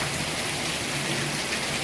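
Heavy rain pouring down outdoors in a front yard, a loud, steady, dense hiss of drops hitting surfaces with no pause and no voices.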